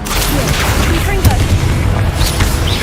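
A Confringo blasting spell detonating in Hogwarts Legacy, a loud continuous rumble of booming blasts with crackling debris over nearly three seconds, with game sounds layered on top.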